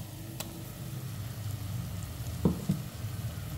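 Masala paste frying in a pan for egg bhurji, a soft steady sizzle under a low background hum, with a couple of brief stirring knocks near the end, fairly faint.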